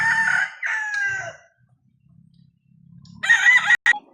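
Chickens and a rooster crowing on a farm, two loud crows close by at the start, then quieter clucking and a third crow near the end.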